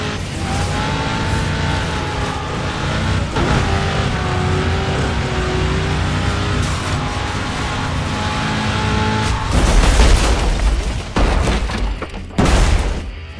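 Racing cars in the video game Burnout Paradise: a loud, sustained engine roar with rising and falling pitch, then heavy crash impacts and booming collisions near the end, with no talking.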